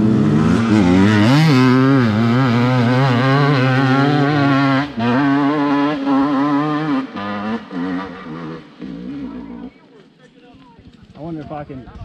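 A CR250 two-stroke dirt bike on a hill climb revs loudly and near, with rising and falling engine pitch, then cuts out and fades about two-thirds through, leaving quieter scattered noise.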